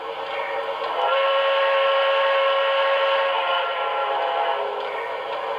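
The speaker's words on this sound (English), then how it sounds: "switch whistles" A steady, sustained steam-style alternate whistle tone from a Broadway Limited PRR S2 6-8-6 turbine model train sounds continuously for several seconds, loud and unbroken, with no talking.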